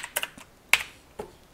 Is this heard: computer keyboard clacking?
yes